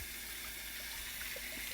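Tap water runs steadily into a sink, as when slightly cooled water is used to wash a rescue puppy on a dog rescue farm; the gushing is close, continuous and without talk.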